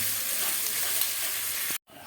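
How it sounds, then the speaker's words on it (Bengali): Onions fry in oil for mutton biryani, a steady, dense close sizzle with light stirring that drops out briefly just before the end. "পেঁয়াজটা সুন্দর করে হালকা ব্রাউন করে ভেজে নিতে হবে"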